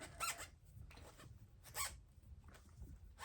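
Squeaking from polishing a surface with 500 grit abrasive: several short high squeaks in quick bursts, fairly faint and close, separated by brief pauses.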